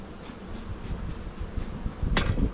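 Honeybees hum in a low, steady drone around an open hive during a nuc install, with a single sharp click near the end.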